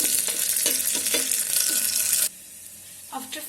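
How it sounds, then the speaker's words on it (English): Beans, carrots and cauliflower frying in oil inside an electric kettle, a loud steady sizzle with stirring clatter that drops off sharply partway through, followed by a few faint knocks. "then beans, carrots. Okay, fry this for about 5 to 6 minutes."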